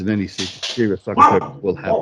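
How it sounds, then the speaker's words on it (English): A dog barks intermittently in the background behind someone speaking continuously, the short barks mixed in under and between his words. "It's actually quite useful that the dog's barking because it gets the point across."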